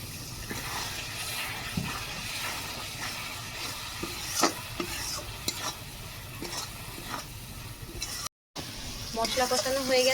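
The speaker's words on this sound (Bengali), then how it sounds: "মশলা থেকে তেল ছাড়তে শুরু করেছে" Masala for chana masala fries in oil in a pan and is stirred, a steady sizzle under repeated scraping strokes of a spoon, with a brief cut-out and a wetter bubbling burst near the end; a voice talks at times.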